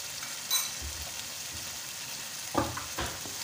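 Mutton masala sizzles in a pan, a soft continuous frying hiss broken by a few spoon stirs and clinks, quiet and without speech.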